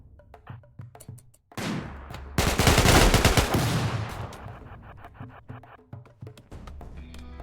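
Gunfire from colonists in the video game RimWorld: a dense burst of rapid shots from about 2.4 to 4 seconds, preceded by one sharp report and followed by scattered lighter pops and game effects.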